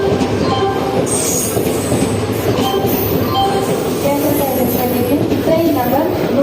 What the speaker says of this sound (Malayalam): പരശുറാം എക്സ്പ്രസ് എറണാകുളം ടൗൺ ഒന്നാമത്തെ പ്ലാറ്റ്ഫോമിലേക്ക് എത്തിച്ചേർന്നിരിക്കുന്നു